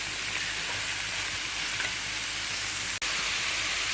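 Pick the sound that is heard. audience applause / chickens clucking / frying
frying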